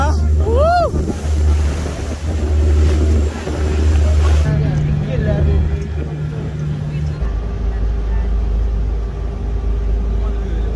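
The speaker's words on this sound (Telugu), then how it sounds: "పెద్ద పెద్ద అలలు వస్తున్నాయి చూడొచ్చు." Big ocean waves surge and wash in steadily on Hormuz Island, Iran, with wind rumbling across the microphone and a voice talking over the surf.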